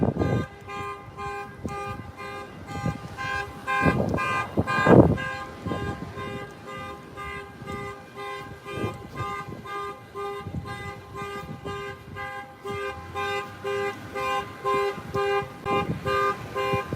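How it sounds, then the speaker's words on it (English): A car alarm on a street blares continuously in steady, repeating electronic tones, loud and close, with a louder burst partway through and faint traffic behind. "the car alarm is going off right now"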